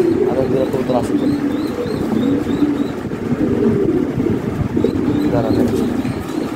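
Lahori Sirazi pigeons coo repeatedly in a close, continuous chorus of low, rolling calls over a constant background hum.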